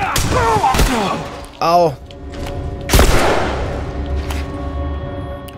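Gunfire in The Last of Us, with a few sharp, loud shots spaced seconds apart among brief voices and a pained cry.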